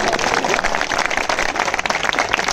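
An audience at a gathering claps steadily, a dense close burst of applause with some voices mixed in.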